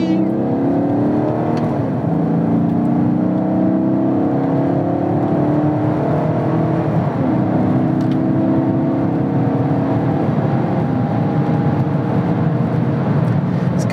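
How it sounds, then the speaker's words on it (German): An automatic car accelerates steadily, its engine note rising through gear changes without a clutch, with harmonic tones sweeping upward several times over a constant loud road and engine roar, heard from inside or close by. "Ist geil, wenn man ein Automatikauto hat und mit dem Gaspedal schalten kann."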